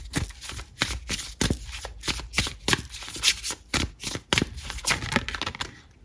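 Tarot cards riffle and shuffle close up in a steady run of crisp, papery bursts, repeating quickly and evenly with no talk.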